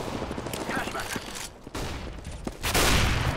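Rapid video-game gunfire from CS:GO comes in quick bursts of sharp cracks, with a louder close volley at the end. The shots sound busy and clipped.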